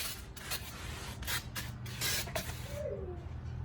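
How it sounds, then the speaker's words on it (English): Hissing bursts of brake cleaner aerosol sprayed onto the front brake rotors of a 2014 Dodge Ram pickup, several short and long sprays at close range, fairly quiet, with no talking. "spray it down with brake cleaner"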